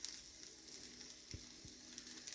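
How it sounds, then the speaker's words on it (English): Tuna fritters sizzle in a frying pan, a faint, steady crackle and hiss with a couple of soft knocks, no voices. "we're just going to let them sizzle away there"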